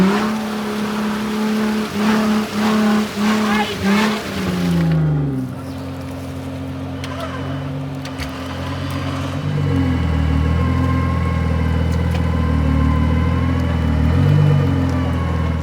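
Off-road vehicles climb a hill course at a Khashmi Challenge off-road competition, engines revving hard in pulsing bursts before settling into a steady, loud drone, with a second engine note rising nearby.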